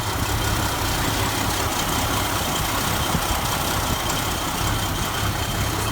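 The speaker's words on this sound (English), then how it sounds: "Listen to that little putt-putt-putt-putt-putt." A 1975 AMC Pacer with an older, underpowered AMC engine idles steadily, a low continuous rumble with an even putt-putt rhythm, close and moderately loud, with no one talking.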